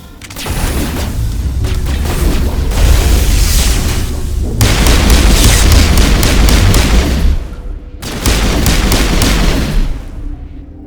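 Dense, loud Mass Effect combat: rapid bursts of gunfire overlapping with booming explosions, nearly continuous with brief drops near the end, heavy and close throughout.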